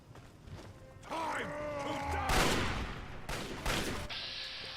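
Turret gunfire in Fallout 3 rattles in bursts amid creaking, whirring mechanical sounds, with loud sharp volleys toward the middle and end of the clip.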